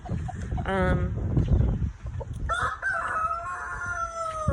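A rooster crows loudly nearby in the second half, after a short clucking call and some background noise and voices.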